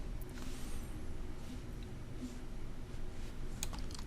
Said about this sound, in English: I just type a new author here.